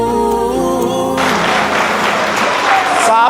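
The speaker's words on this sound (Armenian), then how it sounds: "Ծափերը շատ լավն են, շնորհակալ ենք մասնակցության համար։" Audience clapping at a wedding in a garden, a dense round of applause rising after a stretch of music and holding steady and loud to the end.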